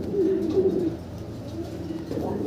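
Andalusian pigeons coo softly and steadily at close range, a low wavering murmur with one clearer drawn-out coo near the start, set among a pigeon farm's background noise.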